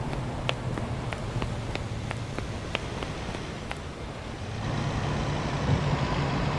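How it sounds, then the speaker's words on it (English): Truck engine idling in the Bus Simulator video game, with a steady low rumble and a regular train of reversing beeps, about a dozen evenly spaced, before the engine swells louder near the end. "Sounds like a truck from Euro Truck Simulator."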